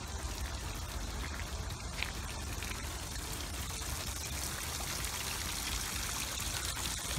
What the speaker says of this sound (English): Some water through there coming down.